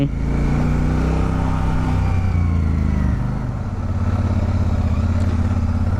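Royal Enfield Super Meteor 650 motorcycle being ridden at ordinary speed, its engine giving a steady low rumble with a slight dip in revs partway through, close and loud with no talk.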